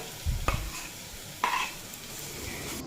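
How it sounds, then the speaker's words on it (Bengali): Lentil paste frying over a low flame while being stirred in a pan, a faint, soft sizzle with two distinct scraping stirs against the metal, quiet and close. "এই ডাল বাটা দিয়ে লো ফ্লেমে দুই তিন মিনিট মতো ভেজে নেব আর এই সময় কিন্তু অবশ্যই কন্টিনিউ নাড়াচাড়া করতে হবে"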